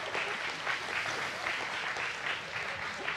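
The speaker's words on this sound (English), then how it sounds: "Let's give them one more round of applause as they go back" A church congregation applauds steadily, a dense wash of clapping that holds at an even level from start to finish with no break.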